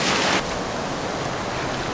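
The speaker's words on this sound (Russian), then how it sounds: "Волны какие-то странные." Ocean waves roll onto a white-sand beach in the Seychelles, a broad rushing wash that breaks loudly at the start and then settles into a steady hiss of surf, with a little wind.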